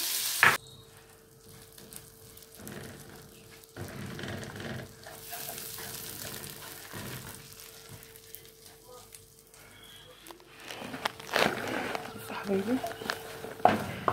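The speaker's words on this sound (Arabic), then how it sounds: "بصوا يا حبايبي اهو انا بحمر اهو" Ghee frying in a pan on a gas stove, a faint sizzle with occasional clatter and stirring knocks, heard under someone talking nearby.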